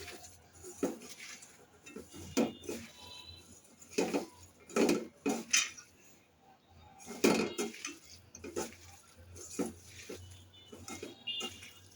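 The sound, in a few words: mixing food by hand in a bowl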